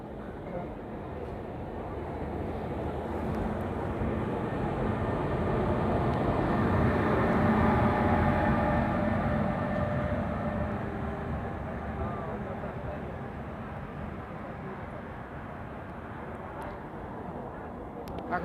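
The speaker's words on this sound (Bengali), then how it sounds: "শতাব্দী ঢুকছে মুড়ির এক নম্বর প্ল্যাটফর্মে" Shatabdi express train rolling into platform one at Muri station, a loud continuous rumble that swells midway and holds steady, with voices talking over it.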